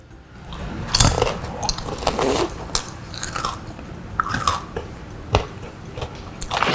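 Crunchy oven-dried vegetable snack bitten and chewed close up, a series of sharp brittle crunches with quieter munching between them, no talking.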